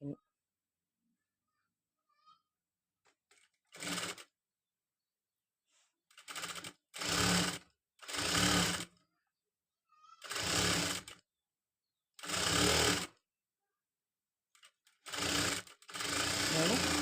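A sewing machine stitches the front of a katori blouse in a run of separate bursts, some short and some longer, each loud and close, with quiet gaps between them.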